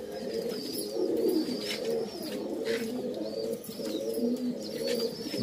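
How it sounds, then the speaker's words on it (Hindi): Teddy pigeons coo close by in soft, repeated low throaty phrases, several birds overlapping in a continuous rolling rhythm with no talk. "ये कबूतर है दो नंबर का"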